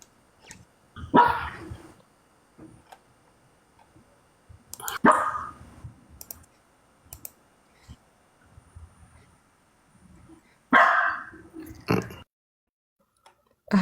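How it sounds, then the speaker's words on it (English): A dog in a backyard barks in three separate bursts spaced several seconds apart, loud and fairly near, with quiet gaps between. "I hear a puppy."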